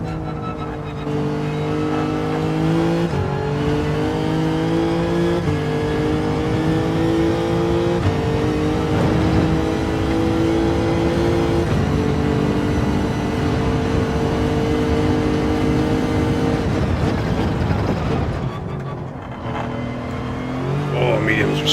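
A Group 4 race car engine in Gran Turismo 7 revs and holds high through the gears for a long stretch, steady and loud, with brief shifts and a drop in pitch near the end, under occasional talk.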